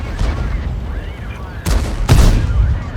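Two booming tank gun shots sound in World of Tanks on Himmelsdorf, a Bat Chat 25t firing AP rounds, each blast loud and close, with engine rumble and game noise beneath.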